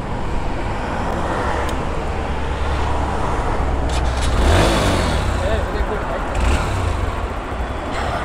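A motorcycle engine runs with a steady rumbling idle, swelling briefly into a rev midway, while people talk over it outdoors.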